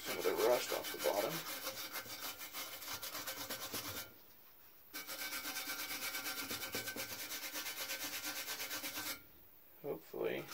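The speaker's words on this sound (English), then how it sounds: "I'll wire brush some of the rust off the bottom." A wire brush scrubs rust off the bottom of a drill press part in rapid rhythmic back-and-forth strokes, close and fairly loud, with two short pauses and a few clanks at the start and end.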